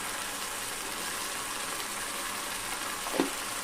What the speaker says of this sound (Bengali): এভাবে নেড়ে চেড়ে মশলাটাকে একটু কষিয়ে নিতে হবে